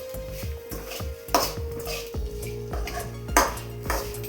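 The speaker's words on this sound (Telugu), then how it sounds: "కొబ్బరి కారం వేసుకొని ఒకసారి కలుపుకుందాం." A spoon clanks and scrapes against a pan while beetroot fry is stirred with coconut chili powder, giving a run of sharp metallic knocks at an uneven rhythm, close and clear.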